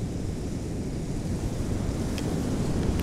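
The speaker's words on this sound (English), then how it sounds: "Water flowing by." Shallow water flowing past on a beach at sunset, a steady, close wash of surf and rushing water mixed with wind buffeting the microphone, continuous and fairly loud with no talking.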